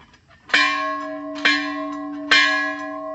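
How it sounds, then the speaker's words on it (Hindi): A metal temple bell rings three times at even intervals, each strike clear and resonant with a long shimmering ring that fades before the next. "तो ऐसा है यहाँ पे मंदिर का घंटी।"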